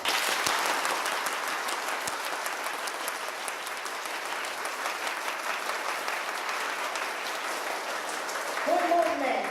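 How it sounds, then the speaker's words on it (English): An audience at a health forum claps for themselves, a broad crowd applause that holds steady for several seconds and then swells slightly near the end as a voice begins to speak. "I want you to clap yourself."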